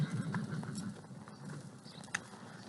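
Horse hooves on a ranch, soft scattered clip-clop steps from a horse being led out near other horses, fairly faint under outdoor background noise with one sharper knock near the end.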